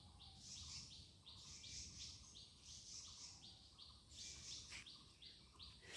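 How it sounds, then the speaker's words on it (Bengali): Birds call around a village pond among mango and other trees, faint, repeated chirping phrases in a steady rhythm at a distance over quiet outdoor background. "চারিপাশে পাখি ডাকছে"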